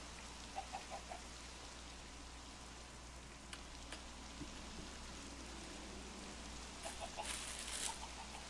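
Chickens cluck in the Minecraft video game, a few short faint clucks set against a steady rain-like hiss, with brief bursts near the start and toward the end.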